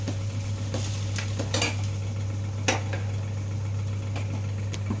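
A spoon stirs kadhi in a pot with a steady scraping rhythm and a few sharper clanks against the metal, over a constant low hum from the stove, close by and without talk.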